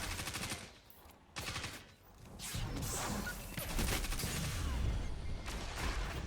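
Bursts of submachine gun fire in a first-person shooter video game, rapid clattering shots near and loud, with a short pause early on before a longer sustained stretch of gunfire and game noise.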